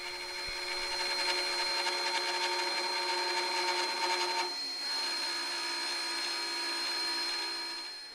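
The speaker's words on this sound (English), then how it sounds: "the bit is making a little bit too much of a chattering noise" X-Carve CNC router bit carving guitar pickup rings, a loud steady high whine with a rough rattling chatter, continuous and close, shifting in tone partway through as the cut changes, with no talking.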